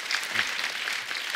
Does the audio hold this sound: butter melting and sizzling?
no